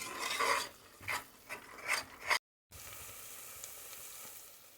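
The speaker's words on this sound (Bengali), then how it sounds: "মশলাটা অনেকটা কষে এনেছি।" Spice masala for Chettinad chicken sautéed in a pan, with a loud, close sizzle and rhythmic scraping strokes of a spatula, then a brief cut followed by a quieter steady sizzle, with no talk.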